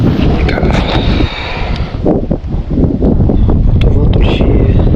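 Gusty wind buffets the microphone at a private fishing pond while carp are being caught on rod and line, a loud, steady rumble that dips briefly near the middle.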